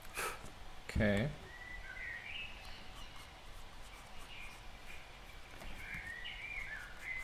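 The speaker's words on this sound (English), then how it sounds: "I was hearing weird sounds in here, but I realize now that it's the birds" Birds calling indoors, soft high chirps and warbling whistles scattered throughout, faint and reflecting in the room, with a sharp thump near the start and a quiet voice in the background.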